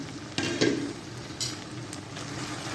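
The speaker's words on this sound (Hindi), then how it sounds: "चिकन हमारा अच्छी तरह से फ्राई हो रहा है।" Chicken drumsticks sizzle steadily in a hot pan, with a few louder bursts where the pieces are stirred or turned, the frying close and constant throughout.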